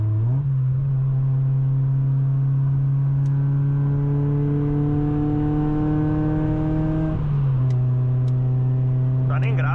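Chevrolet Astra 16v accelerating hard on a highway, its engine note climbing steadily through the gear, dropping at a shift change and then rising again. The sound is loud and close, heard from inside the car, with a voice briefly under the engine.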